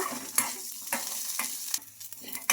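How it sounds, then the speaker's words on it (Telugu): Peanuts and chilies fry in a pan with a close, crackling sizzle, broken by several sharp scrapes and clicks of a spoon stirring at uneven intervals. "పల్లీలు మిర్చి అనేది బాగా ఫ్రై అయిపోవాలి మనకు."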